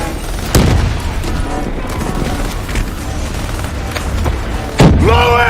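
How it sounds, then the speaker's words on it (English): Javelin missile strikes exploding in the Call of Duty: Black Ops 3 video game, two sharp, heavy blasts several seconds apart over a rumbling din of gunfire and battle noise, with shouted voices. "Brace for impact. Javelin missiles inbound."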